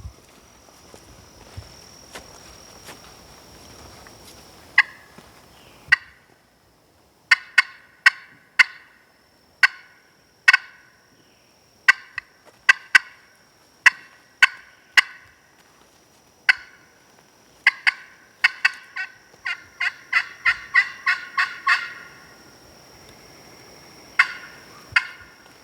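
Wild turkeys in a Mississippi creek bottom answering a call: repeated sharp calls and gobble-like bursts in quick irregular clusters, moderately near, over a steady high insect drone, no talk.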